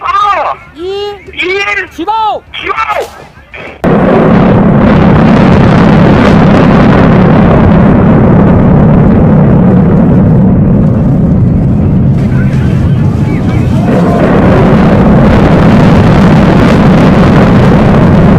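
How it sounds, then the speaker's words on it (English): Towering unfinished skyscrapers come down in a controlled demolition, a heavy, sustained roaring rumble with wind-like buffeting that follows a few seconds of a voice speaking. "a controlled demolition swiftly brought down these towering structures"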